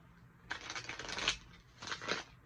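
Tarot cards shuffled by hand in two bursts of quick riffling flutter, close and moderately loud, with a short pause between.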